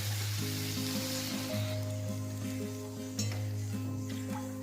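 Tomato paste and water sizzling in a hot pan while cooking a sweet corn curry, a steady, close, even frying hiss with faint stirring and no voices.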